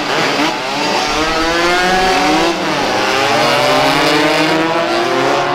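A car engine revs hard and loud near a police stop on a city avenue, the pitch sweeping up and down through repeated throttle blips with sustained roaring and no voices.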